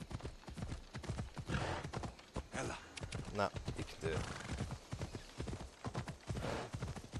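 Horse hooves clip-clop steadily while riding in the video game Assassin's Creed Odyssey, a continuous galloping patter running beneath a voice as he talks throughout.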